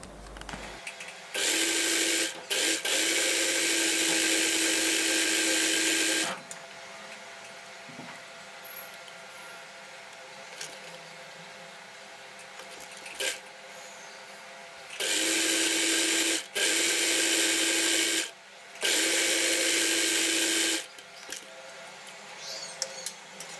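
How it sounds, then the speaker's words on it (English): Sewing machine stitching two fabric pieces together for a drawstring bag, with several loud bursts of steady mechanical whirring separated by short pauses and quiet handling between runs. "So first I'll stitch this."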